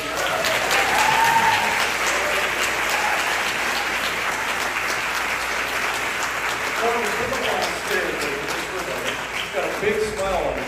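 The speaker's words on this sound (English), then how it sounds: "Could you give him an encouraging round of applause to come up front?" A concert audience at a symphony pops event claps to encourage a young boy who read a story, sustained dense applause with cheers and a voice or two mixed in, loud and continuous across the stretch.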